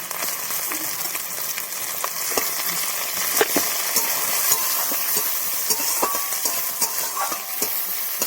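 Masala with chopped green chillies frying in a pan for an amodi fish curry, a loud close sizzle with repeated stirring scrapes and small clinks.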